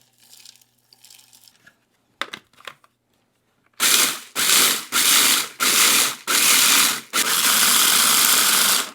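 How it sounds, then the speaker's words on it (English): A food processor grinds chunks of maple sugar, starting after a few faint clinks with a series of loud pulsed bursts, five short whirring grinds followed by one longer continuous run, close and harsh with no talking. "I just put them in a food processor and whiz them down to a nice fine grind"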